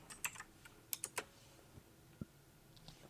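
Sparse, faint keystrokes and clicks on a computer keyboard, a few quick taps in small clusters with pauses between them, heard alone in a quiet room.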